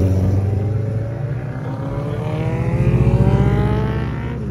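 A Chevrolet Corvette engine revs hard with a steady loud harmonic drone, pitch holding and then climbing slightly, alone without talk.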